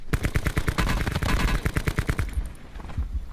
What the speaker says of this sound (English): He's a little too far away for my liking for automatic, so I'm just tap firing